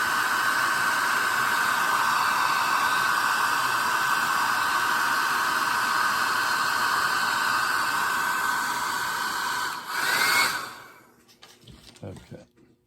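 Hair dryer blowing steadily to dry paint on a hand-carved wooden wren, a loud continuous whoosh lasting about ten seconds before it switches off, followed by faint handling noises.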